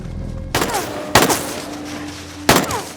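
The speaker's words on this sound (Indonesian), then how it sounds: "dengan peluru seadanya, Bob Lee mencoba menyelamatkan diri dengan beberapa tembakan" Three loud, sharp gunshots from a sniper action film, the first two about half a second apart and the third after a longer gap, each followed by a brief echoing tail over a low background.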